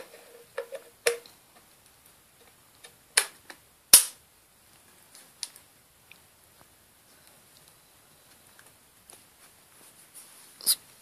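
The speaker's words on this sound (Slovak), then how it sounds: "Natiahnutie a spustenie zbrane, poistka, zlamovanie." An Ardesa Vortek StrikerFire Northwest Magnum .50 caliber muzzleloader rifle gives a series of sharp mechanical clicks and snaps, cocking, dry firing, the safety and the break action opening, heard close in quiet surroundings.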